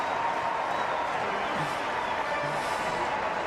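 Stadium crowd at an AFL football match roaring after a long goal, a steady dense wash of cheering and applause from thousands, far-off and continuous without letup.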